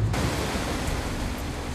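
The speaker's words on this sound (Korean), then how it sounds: "파도가 쉬 가라앉지 않고 있다." Rough sea waves surge around a shrimp-fishing boat off Yeonggwang in strong wind, a dense, steady roar of water and spray that stays loud and close throughout with no voices.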